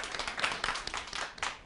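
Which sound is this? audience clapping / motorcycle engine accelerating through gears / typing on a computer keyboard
audience clapping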